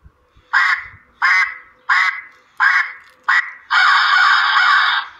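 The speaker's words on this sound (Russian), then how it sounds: "Ворона." An electronic hunting game caller plays a crow call: five short, harsh caws in an even rhythm, then one long sustained caw, loud and close with no talking.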